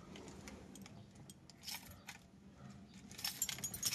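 A bunch of car keys jangles close by as one key is picked out, with faint scattered metallic clinks that grow into denser, brighter rattling near the end.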